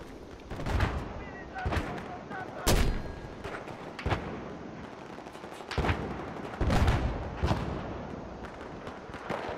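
Heavy gunfire and booming mortar blasts ring out during a Conquest match on Operation Metro in the video game Battlefield 4. Sharp loud bursts recur every second or two over steady battle noise.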